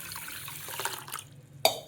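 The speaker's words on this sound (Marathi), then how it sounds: "तर आता आपण 4 तास ह्याला पाणी ओतून" Water is poured over washed mixed lentils set to soak, a short splashing trickle into the bowl that ends in a bright clink of metal or glass.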